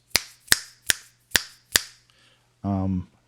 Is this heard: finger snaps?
yes